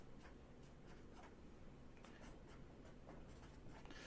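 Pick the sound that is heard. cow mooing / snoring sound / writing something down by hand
writing something down by hand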